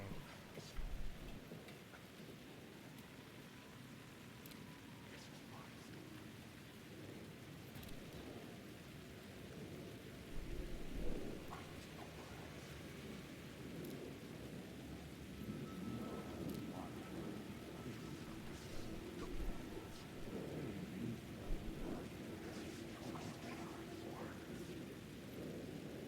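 Rain falls steadily with rolling rumbles of thunder in the video game Alan Wake 2, a dense continuous wash of downpour with several heavier low booms scattered across the storm.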